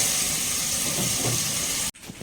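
Cloves, cinnamon, kalpasi and onion sautéing in a pan for mutton biryani, a steady loud sizzle and hiss that cuts off abruptly near the end.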